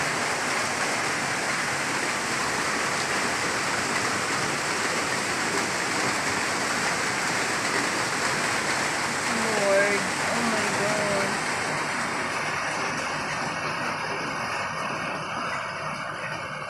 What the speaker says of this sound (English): Hope the rain will be over.